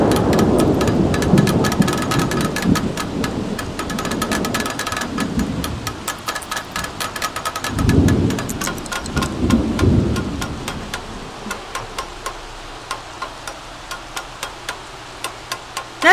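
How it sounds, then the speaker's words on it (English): Repeated hammering during a thunderstorm in The Sims 3, sharp regular taps over steady rain with low rolling thunder swells, the knocks standing out clearly near the end as the rain eases. "Not too much to say while he's like hammering away and while it's storming and raining"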